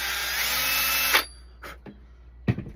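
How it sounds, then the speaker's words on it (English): Power drill boring a hole into the flat side of a hollow bamboo pole: a loud, steady high whine for just over a second that stops abruptly, followed by a few sharp knocks and taps. "Drill a hole halfway through, right there."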